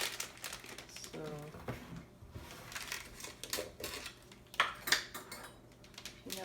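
Peanut butter and Nutella are scooped with a utensil into a Ziploc bag, making irregular plastic crinkling and light scraping clinks close up, while a person speaks over it.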